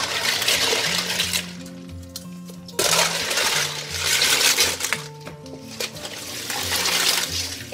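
Live clams being rinsed in water after a soak to purge mud and grit: splashing and sloshing with clinking shells, steady and close, with a brief pause partway through.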